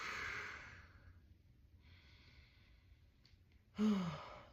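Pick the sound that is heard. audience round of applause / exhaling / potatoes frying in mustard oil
exhaling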